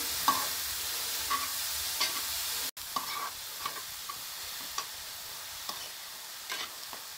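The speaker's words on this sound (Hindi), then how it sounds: "तो इसको हम चलाते हुए फ्राई कर लेते हैं।" Cauliflower florets stir-fried in a pan for stuffed paratha, with a steady close sizzle broken by regular scraping knocks of a spoon as the pieces are moved, one brief dropout midway.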